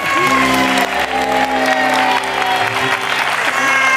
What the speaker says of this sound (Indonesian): Oke, tepuk tangan dulu dong untuk Gina